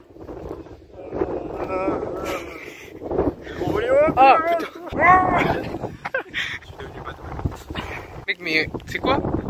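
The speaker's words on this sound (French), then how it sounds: "Le vent il est tellement puissant" Gusty wind buffets the microphone in rumbling bursts while a person talks over it, loud and close, on the coast at Dunkirk, France.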